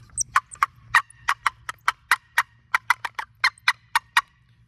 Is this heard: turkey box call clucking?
yes